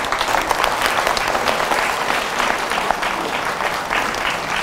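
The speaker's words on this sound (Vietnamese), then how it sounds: "đại chúng cho ông tràng pháo tay để mừng" A crowd at a Buddhist gathering celebrating a nun's 70th birthday claps steadily and warmly throughout, dense and even applause with no talking over it.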